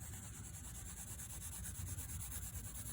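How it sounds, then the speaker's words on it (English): Pencil hatching on paper: fast, quiet, continuous scratchy strokes, close and faint, with no talking. "Here I'll even make the hatching fast, but more open."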